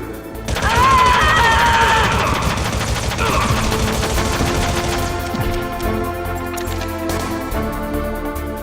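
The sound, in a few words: SOCOM pistol gunfire in Metal Gear Solid video game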